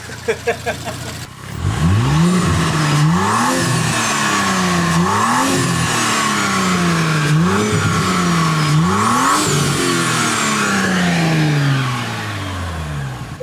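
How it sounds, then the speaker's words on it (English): An Audi engine revs hard in repeated rising pulls close by, each climbing and dropping with turbo whine and spool over a steady growl. "I already hear the turbo"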